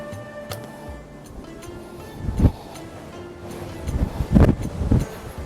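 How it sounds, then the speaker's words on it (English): Wind gusting through a narrow stone passage of an 850-year-old Norman castle in England, a low rushing roar that swells and buffets the microphone in heavy bursts near the end. "the wind is just coming straight up there, man. It's like a bloody wind tunnel."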